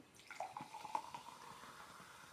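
Carbonated Fanta grape juice drink is poured in a steady trickling stream that fizzes and splashes softly. It sounds faint and close.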